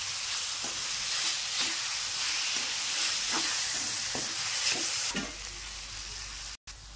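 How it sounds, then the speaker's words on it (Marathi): Mashed eggplant bharit, Khandeshi style, is stirred in a pan over lowered gas. Rhythmic spatula scrapes roughly every second sit over a constant close sizzle. "हे सगळं वांग आहे ते टाकून देऊ आपण आणि त्याला चांगलं हलवून घेऊ"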